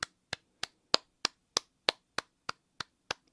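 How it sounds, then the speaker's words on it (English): A steady run of about eleven sharp single hand claps, evenly spaced roughly a third of a second apart, close and crisp with no voices. "A long clap."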